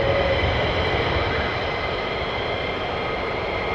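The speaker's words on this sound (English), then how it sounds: "Flight of 4 going up now, so this 4 I presume are going to be going up. Enjoy the afterburners" Fighter jets at RAF Lakenheath roar steadily with afterburners during takeoff, a loud, continuous broadband rumble and hiss with no break.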